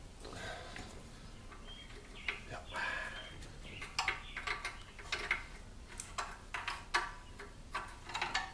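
A wrench ratchets the nuts off the carburetor of a Tecumseh-powered trimmer/edger, with quiet clicking bursts and sharp metallic ticks growing busier toward the end, close and faint.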